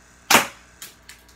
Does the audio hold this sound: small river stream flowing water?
no